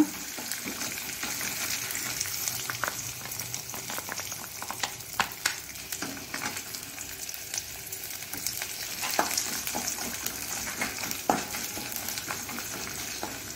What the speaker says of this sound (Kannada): ಸಾಸಿವೆ ಒಡೆಯುವಾಗ ನೋಡಿ, ಸಾಸಿವೆ ಒಡಿತಾ ಉಂಟು, ಟಪ್ ಟಪ್ ಶಬ್ದ ಆಗುವಾಗ